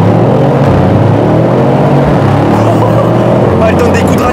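A Mercedes C63 AMG accelerates hard on a straight, its engine a loud, continuous drone with shifting pitch heard from inside the car, while someone talks over it throughout.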